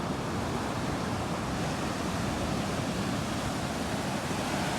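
Steady, dense surf and wave wash rolls continuously at Hillier Bay beach near Denmark, Western Australia, loud and broadband with wind mixed in and no voices.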